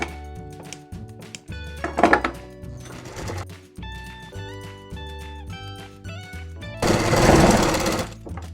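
A sewing machine stitches the stand collar of a kurti in bursts of rapid mechanical chatter, starting and stopping with short pauses and a louder run near the end.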